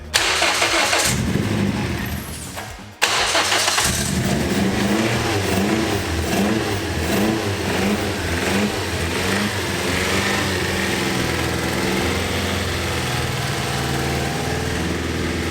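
A turbocharged 1.8 Toyota Yaris SR engine cranks and fires up at close range, then settles into a loud, steady, slightly lumpy idle that keeps running.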